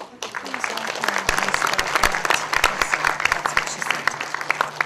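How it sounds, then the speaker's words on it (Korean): Audience applause greeting a guest lecturer who has come from Africa, a dense patter of many hands filling a small hall, with a voice speaking faintly beneath. "큰 박수로 환영의 인사 좀 부탁드립니다"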